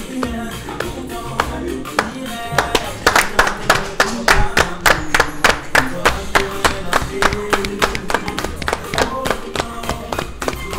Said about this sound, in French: Allez, on va les applaudir.